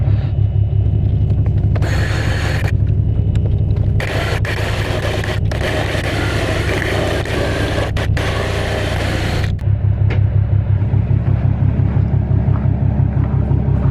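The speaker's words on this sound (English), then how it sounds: "The car's on." A twin-turbo Corvette's engine idles with a deep, steady rumble close by, with some scraping and rattling over it as the car is readied on a trailer, no talk.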